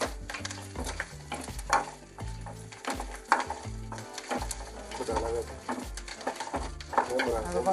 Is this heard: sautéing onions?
yes